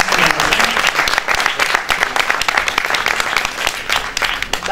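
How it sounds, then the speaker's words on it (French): Loud, close audience applause at a forum of French local authorities, a thick burst of many clapping hands with sharp individual claps that carries on vigorously without letting up. "on peut l'applaudir"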